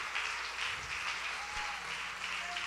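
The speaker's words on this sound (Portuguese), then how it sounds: "Você pode aplaudir o Senhor pela vida da pastora Cristina?" Congregation at a church service applauding, a dense, even wash of many hands clapping, steady and moderately loud, heard from across the room.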